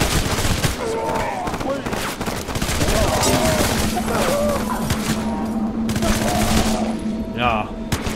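Loud, sustained SMG bursts rattle through the Hatred video game, rapid continuous gunfire with thuds and booms mixed in, while someone talks and shouts excitedly over the shooting.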